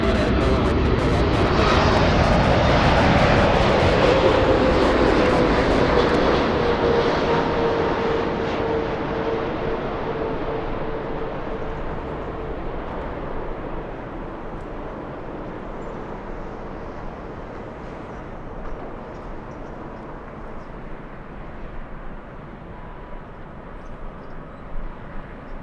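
A Southwest airliner takes off from runway 24 left at LAX, a loud jet roar that builds, then slowly fades into the distance with a falling tonal whine.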